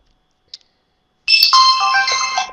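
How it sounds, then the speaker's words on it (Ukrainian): Mobile phone ringtone for an incoming call begins abruptly after near silence and a faint click, a bright multi-tone melodic ring that sounds loud and close. "У мене дзвонять."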